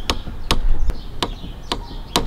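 A torque wrench set to 30 newton-metres, tightening brake caliper hardware on a Honda Forza 750 / X-ADV 750 scooter, gives about six sharp, close metallic clicks at a steady pace in a quiet setting.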